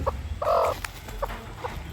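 A hen clucking up close, a few short clucks followed by a longer, louder drawn-out cluck, with quiet farmyard ambience around it.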